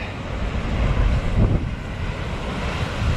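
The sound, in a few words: waves splashing up on a beach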